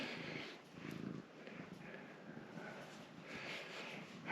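A cat purrs while being petted outdoors, a soft continuous low rumble with gentle rhythmic pulses, close and fairly quiet against faint background noise.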